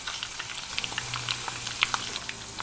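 Pork skins frying in rendered fat in an uncovered pan, a close, steady sizzle dotted with sharp crackles and pops, with no talk.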